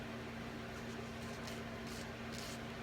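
Fans run steadily indoors as a faint, constant hum and whoosh with a low tonal drone, with no talking over it.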